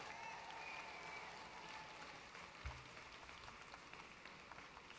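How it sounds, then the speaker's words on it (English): Steady audience applause fills a hall at the 2019 South Carolina Democratic Party Convention, a continuous moderate wash of clapping with a brief low thump near the middle. "Let's give Senator Klobuchar another round of applause."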